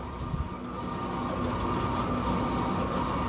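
Automatic film take-up roller turning on a 60 cm DTF shirt printer with two i3200 print heads, a steady mechanical whir and rub that runs continuously with faint regular ticks, close and alone.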